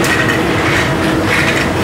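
Metro train rolling through a tunnel beneath Paris, a steady dense rumble of wheels on rails with faint clattering over rail joints, loud and continuous throughout.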